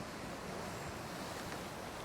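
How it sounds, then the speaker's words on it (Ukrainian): Sea waves wash on a shore in the shooter game Arena Breakout, a steady, soft roar of surf and wind with no distinct breaks. "ми тепер на берегу моря."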